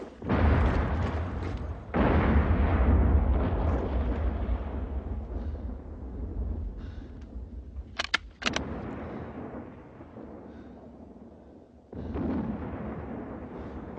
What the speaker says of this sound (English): Look out! Bombs!